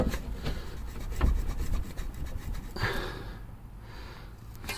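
A control arm on a BMW 3 Series is slid into place with close scraping and rubbing of metal, a few knocks, and rustling and breathing under the work.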